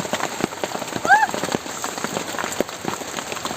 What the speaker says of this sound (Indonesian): Ya mudah-mudahan sih hujannya cepat reda